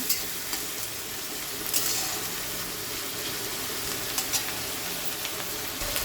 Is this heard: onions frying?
yes